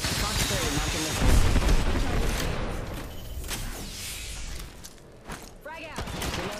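Gunfire in the Apex Legends battle royale game: heavy bursts and booms crackle through the fight, loudest early on and then thinning, with a player talking over the shooting.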